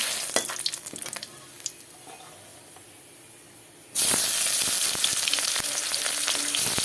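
Quiet crackling of hot oil in a wok for several seconds, then a sudden loud burst of sizzling as a bay leaf hits the oil, hissing strongly and steadily to the end.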